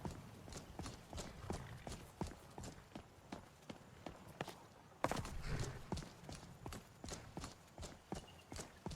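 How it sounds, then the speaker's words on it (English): Steady clip-clopping horse hooves in Skyrim with a regular walking rhythm, fairly close, over a soft ambient background with no talking. "Pretty horse."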